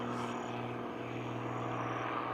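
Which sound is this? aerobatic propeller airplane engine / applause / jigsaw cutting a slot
aerobatic propeller airplane engine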